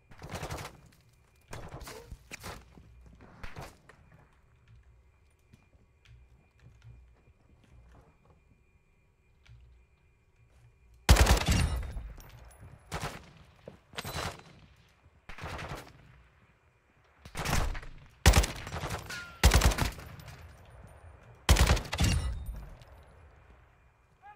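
Submachine gun fire in a video game comes in rapid bursts of sharp shots, first lighter and sparse, then louder clustered volleys in the second half.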